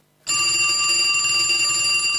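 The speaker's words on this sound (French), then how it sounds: "Ah, le téléphone sonne." A telephone rings loudly and steadily after a brief moment of silence, its bright electronic ring tone continuing unbroken and close with no voices over it.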